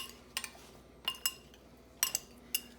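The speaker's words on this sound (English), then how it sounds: "I'm going to mix this around a little." Bowl of freshly salted pico de gallo being stirred with a utensil, giving a few sharp clinks and taps against the bowl in separate bursts, close and fairly quiet.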